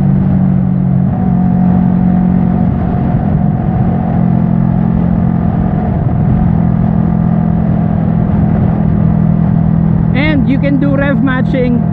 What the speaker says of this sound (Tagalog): rev matching without clutch. Clutchless shifting.